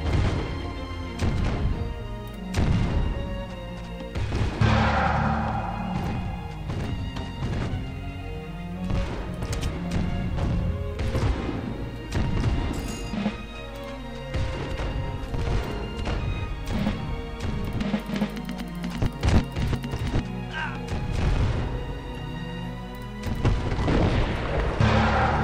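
Cannon and artillery fire in a Rise of Nations strategy battle, with repeated booming shots and crashing impacts over a busy, continuous din of combat sounds, no speech heard.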